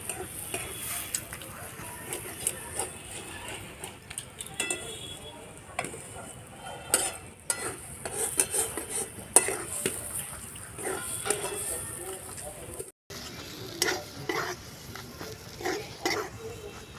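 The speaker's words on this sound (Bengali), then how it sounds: "নাড়িয়ে নাড়িয়ে এভাবে ভাজা ভাজা করে নিলাম" Raw banana peel stir-fried in a pan: soft sizzling under repeated sharp clicks and scrapes of a utensil against the pan, irregular and close, with a brief silent gap partway through.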